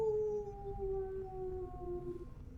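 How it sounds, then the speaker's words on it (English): Wolves howling as a sound effect in a Curse of Strahd tabletop game session, several long overlapping rising and falling howls, clear and sustained with no talking. "They all start howling again."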